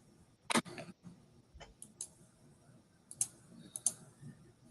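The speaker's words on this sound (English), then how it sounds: "I am clicking way too many buttons." Sharp computer button or mouse clicks in scattered bursts, a cluster early on and a few single clicks later, fairly close and crisp over a quiet room background, with no talking.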